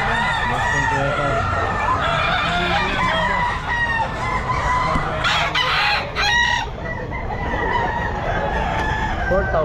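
Sweater gamefowl roosters crow repeatedly at a crowded pet market in Bocaue, loud nearby cock-a-doodle-doos mixed with clucking over a busy background, with voices of people talking underneath.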